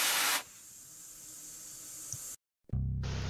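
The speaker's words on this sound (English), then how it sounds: "and the steam never stops" Steam rushes from the boiler injector of a steam locomotive. A loud hiss breaks off into a steady, quieter hiss, cuts to a brief silence, and then swells back in strongly.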